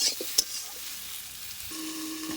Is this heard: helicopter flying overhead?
no